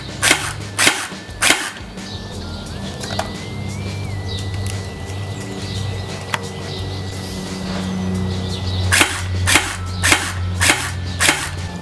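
A Scorpion gel ball blaster by Oenlol fires in rapid clusters of sharp snapping shots at the start and end, with a motor whirring in between as it loads.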